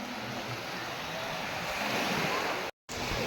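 Sea waves washing on a shoreline while shellfish are gathered, a steady broadband roar with gusts of wind buffeting the microphone and a brief dropout near the end.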